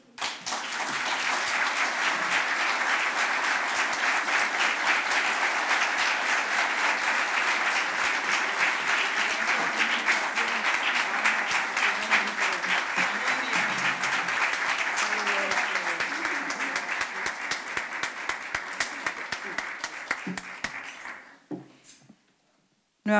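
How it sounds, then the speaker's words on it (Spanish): An audience claps steadily and loudly after a conference talk, a dense, sustained applause that thins out and fades away over the last couple of seconds. "ese aplauso para la doctora Miriam y su conferencia"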